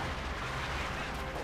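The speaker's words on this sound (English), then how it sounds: "there you go, explosions there. I guess some mines or some artillery." Dull, distant rumbling explosions from mines or artillery in the World War II strategy game Company of Heroes 2, a continuous muffled roar of blasts without clear separate hits.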